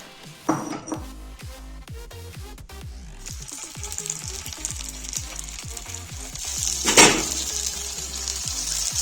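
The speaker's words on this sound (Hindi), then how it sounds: "तो इसको फ्लेम ऑन करो, थोड़ा सा ऑयल या घी अप्लाई कर दो।" A protein patty fries in a little oil or ghee on a hot pan, giving a steady close sizzle throughout with a brief louder flare of spattering near the end.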